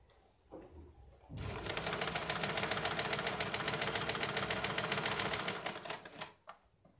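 An electric sewing machine stitches a blouse, starting with a few light clicks, then running in a fast, even mechanical rattle for about five seconds before slowing and stopping.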